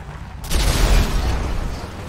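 In Grand Theft Auto V, a sudden loud boom bursts after a brief quiet moment, then a heavy rumbling roar slowly fades.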